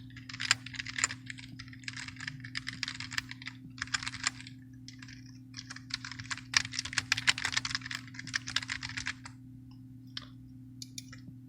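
Typing on a computer keyboard to enter sign-up details, a quiet run of quick irregular key clicks in bursts over a low steady hum, with no voices.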